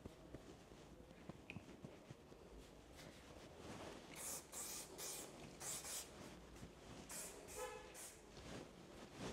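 A hairdresser styling hair with fingers sprays hair spray in several short, soft hissing bursts in a quiet room, with faint handling noises between them.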